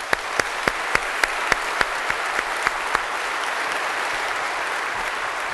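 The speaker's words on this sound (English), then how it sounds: "I think it would be great to give a round of applause to Anne for her leadership as she's come." An audience at a university IT summit's morning plenary applauds steadily, a dense, even wash of clapping with a few sharper individual claps standing out, sustained without talk.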